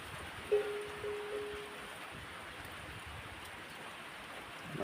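Rain falling steadily in cold weather, a continuous even hiss with a brief faint tone early on and no voices.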